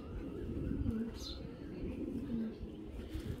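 Racing pigeons cooing in low, rolling calls, close by, with a brief higher chirp partway through.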